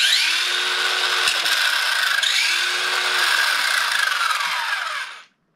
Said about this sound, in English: The motor's reaching higher RPM with the S mode, with the lower gearing, as you'd expect.